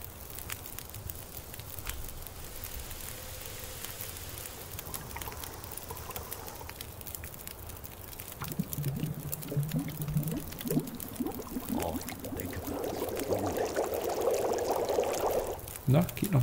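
Water boils in a pot over a campfire in the survival video game The Long Dark, a steady crackle and bubbling hiss that grows louder partway through, with a voice talking over it.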